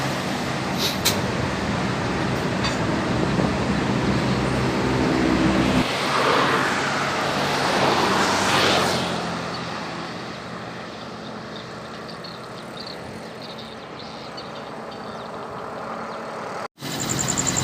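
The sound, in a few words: Scania bus passing on road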